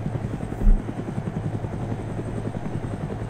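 A UN helicopter in the ArmA 3 military simulation game, its rotor chopping in a steady low throb that stays loud and continuous throughout, with one brief thump partway in.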